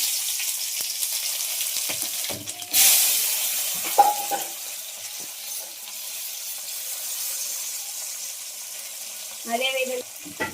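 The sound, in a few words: onion, tomato and green chilli frying in a pan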